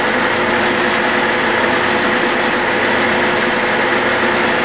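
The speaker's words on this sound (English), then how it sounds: "Alright, we're center drilling." A metal lathe center drilling a metal workpiece with a center drill at slow feed, giving a loud, continuous, even machine whir with no one talking.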